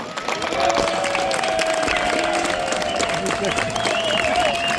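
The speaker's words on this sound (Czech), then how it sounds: "aby všem našim týmům zatleskali, protože všichni si to zaslouží" Audience at a roast suckling pig competition awards ceremony in Vracov applauding the competing teams, a dense, steady wash of clapping with a faint whistle-like tone running through, close and sustained throughout.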